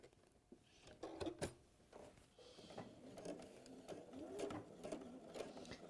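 A sewing machine stitches a seam forward and back in short bursts, its needle clattering rapidly in quick mechanical runs with brief pauses between, close and quiet.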